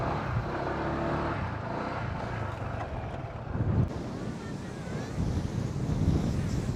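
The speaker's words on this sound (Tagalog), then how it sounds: "Lakas ng alon." Strong ocean waves crash along an Ilocos Norte shore, a loud continuous rumbling surf mixed with heavy wind buffeting the microphone and surging louder midway.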